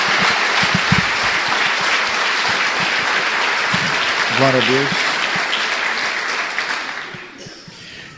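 A church congregation applauds with sustained, loud clapping that fills the space, while a voice calls out briefly partway through and the clapping gradually thins toward the end.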